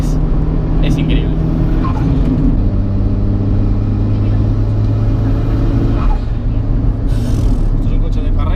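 A Mitsubishi Lancer Evo 8 MR street car drives with a loud, steady engine drone heard from inside, the pitch shifting as it pulls through gears, continuous and close throughout.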